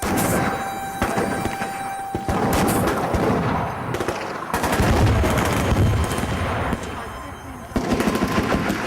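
Heavy .50 caliber rifle fire, a weapon powerful enough to stop an armored vehicle, rings out in loud, sharp reports with booming echoes, shots close together and dense throughout.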